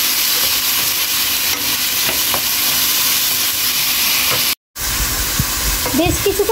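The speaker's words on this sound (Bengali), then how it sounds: "এখন পেঁয়াজটা দেওয়ার পর বেশ কিছুক্ষণ ভেজে নেব।" A cup of chopped onion fries steadily in a pan for a home-style potato greens dish, giving a continuous close sizzle with occasional stirring scrapes and a brief gap near the end.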